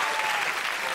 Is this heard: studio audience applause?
yes